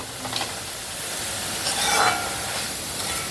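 Steady stirring in a hot pan as cucumber pachadi cooks, with a continuous soft sizzle and hiss and faint scraping, close and even.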